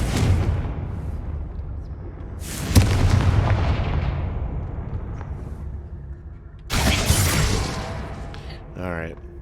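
Confringo fire-spell blasts boom and crackle in Hogwarts Legacy, with two heavy impacts that ring out and fade over game ambience, and a voice speaking over it.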